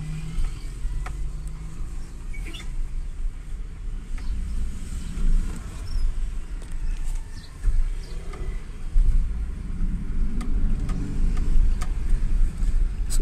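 A fuel-injected car engine with an electronic throttle revs up and settles back down, a low steady engine rumble with a few rises in the second half, close by with no talk.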